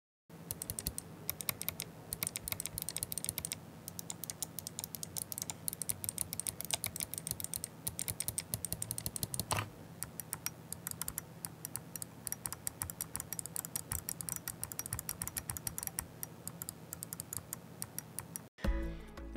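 Rapid key clicks from an Azeron Cyborg gaming keypad, a steady run of close, crisp taps with no talk over them.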